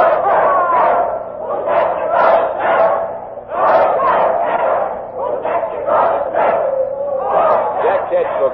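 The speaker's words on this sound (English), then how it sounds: "And now the crowd is chanting a doggerel." In a radio drama, a rowdy crowd at a hanging chants a rhythmic doggerel in loud repeated bursts of massed voices, swelling and dipping across the whole stretch.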